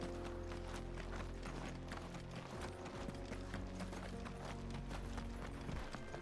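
A horse running in Final Fantasy XVI, its quick rhythmic hoofbeats pounding steadily under game music and ambient sound throughout.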